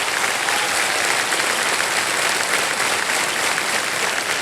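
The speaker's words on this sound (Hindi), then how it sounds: "तालियां बज जाए इनके लिए।" A studio audience applauds a quiz show contestant on a game show set, a dense, even wall of clapping that holds at a steady level for the whole stretch without any voices breaking through.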